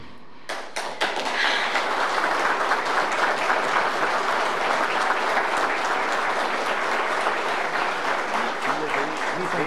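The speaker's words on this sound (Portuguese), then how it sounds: "obrigada pelas palmas" A ceremony crowd erupts into applause after a few scattered early claps, then dense, loud clapping carries on steadily, with some voices mixed underneath.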